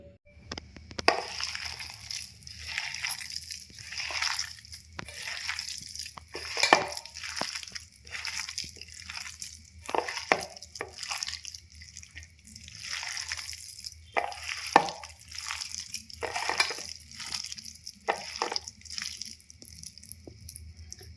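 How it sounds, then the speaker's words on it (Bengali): Potato being mashed by hand with chopped onion, tomato, salt and raw mustard oil, a run of soft wet squelches and squishes in irregular bursts, close and fairly quiet, with no talking. "এর মধ্যে ওই পেঁয়াজ কুচি টমেটো কুচিগুলো এর মধ্যে দিয়ে ভালো করে চটকে মেখে নিই চলো"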